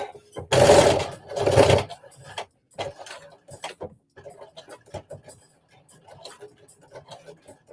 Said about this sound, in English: Let me tack down this back a little bit more.